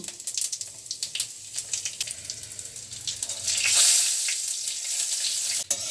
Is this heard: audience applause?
no